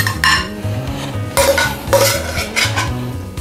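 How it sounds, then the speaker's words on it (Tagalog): A metal utensil scrapes and clinks against a pan while sautéed chicken liver is moved onto a serving plate. Several distinct scrapes and taps sound over a low rhythmic background, close by, with no talking. "transfer naman po natin siya sa ating serving plate"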